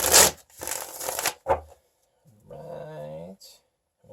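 Bursts of tarot cards riffled and shuffled by hand nearby, two rustling flurries followed by a quick flick, then a person begins speaking softly.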